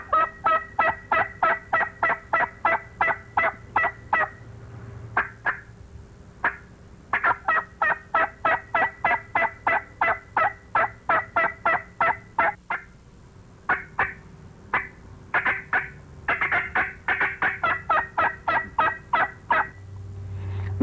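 Excited hen turkey cutting call used for spring gobbler hunting, rapid loud runs of sharp clucks and cuts in fast bursts with brief pauses, close and clear with no talking.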